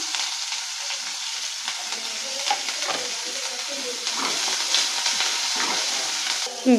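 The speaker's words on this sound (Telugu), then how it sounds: "ఉల్లిపాయ ముక్కలు అలాగే పచ్చిమిర్చి ముక్కలు వేసేస్తున్నామండి వీటితో పాటు కరేపాకు కూడా వేసేస్తున్నామండి" Chopped onion, green chilies and curry leaves fry in hot oil for a drumstick, cucumber and tomato curry, a steady close hiss with scattered crackles and stirring scrapes throughout, no one speaking.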